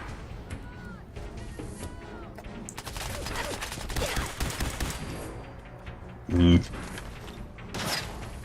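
Gunfire in Fallout 4 comes in bursts of rapid shots against a busy game background, with a loud thump near the end and a creaking mechanical sound. A player's voice is heard over it.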